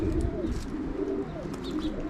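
Racing pigeons landing at a home loft in Szczecin, soft cooing and low bird calls running steadily at close range, with faint chirps above and no talking.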